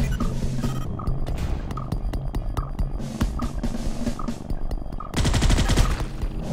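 Rapid automatic gunfire from sentry guns in the sci-fi shooter Space Beast Terror Fright, dense rattling bursts running continuously and growing heavier and louder in the final seconds.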